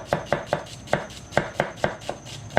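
Knife chopping an onion finely on a cutting board, a steady run of about ten sharp, evenly spaced thuds close by with no talking.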